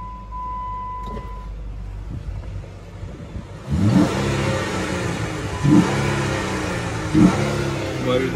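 A 2012 Jeep Wrangler V6 4x4 cranks and starts, then settles into a rumbling idle broken by three sharp revs, heard close and loud.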